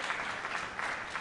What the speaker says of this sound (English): If you keep applauding, I won't be able to get finished on time.